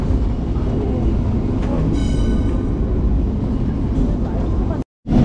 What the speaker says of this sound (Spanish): mirad ahora como el tranvía